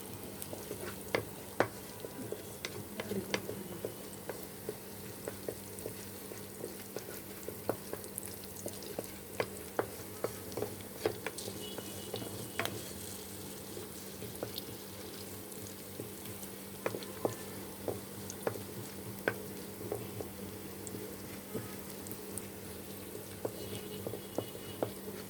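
Onions with turmeric frying in a pan for broken-rice khuder vaat, a steady low sizzle broken by frequent small crackles and pops and occasional stirring scrapes, continuous and fairly faint.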